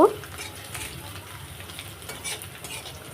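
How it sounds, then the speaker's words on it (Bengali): Onions and garlic cloves sizzle steadily in a hot pan, with the soft scrape of stirring running through the whole stretch. "দিয়ে পেঁয়াজটাকে ভেজে নিব"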